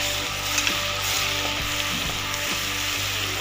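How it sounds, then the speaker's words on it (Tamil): Ginger, garlic and masala fry in oil for mutton kotthu, giving a steady close sizzle with a few faint stirring knocks and no talk. "மசாலா எண்ணெயில் நல்லா வதங்கணும்."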